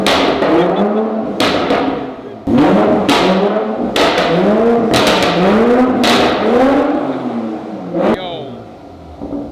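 A Toyota Supra MK5 fitted with an AWE resonated touring exhaust is revved repeatedly, a series of sharp, loud throttle blips rising and falling in pitch, close up, with voices occasionally heard between revs.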